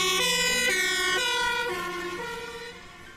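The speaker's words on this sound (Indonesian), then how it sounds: "Ini namanya mobil pemadam kebakaran." A toy fire truck's electronic siren wails in rising and falling tones, loud and close, slowly fading over a few seconds with no talking.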